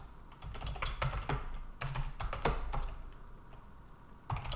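Rapid keystrokes on a computer keyboard as bash shell commands are entered on Linux, a steady close clatter of clustered taps with a short pause midway, no voices.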